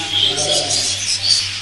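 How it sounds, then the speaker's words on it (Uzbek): A crowded aviary full of birds, pigeons and doves among them, chirps and coos steadily over a constant low hum, the calls overlapping at moderate loudness. "Bu yerda qushlar juda ham ko'p."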